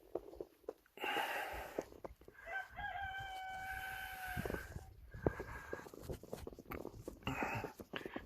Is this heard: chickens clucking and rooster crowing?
yes